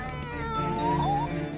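A cartoon cat meowing, one drawn-out, close meow that rises and bends in pitch, clear and alone.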